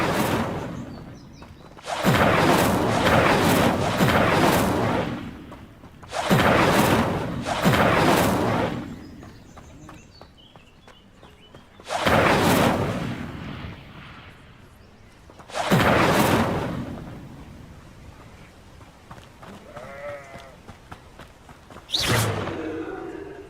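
The Incendio fire spell in Hogwarts Legacy roars out in several long, loud whooshing bursts of flame, each lasting a few seconds with quieter gaps, and a sharp final blast.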